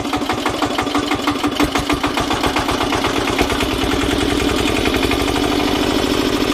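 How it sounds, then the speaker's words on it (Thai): Close, loud small engine of an old Japanese Daiden D200 110-volt engine generator welder chugging rhythmically, its pulses speeding up and the pitch rising into a steady higher-revving drone. "เร่งเครื่องหน่อย"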